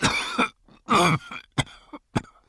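Several harsh coughs in a row, two long rasping ones followed by shorter sharp bursts, close and loud.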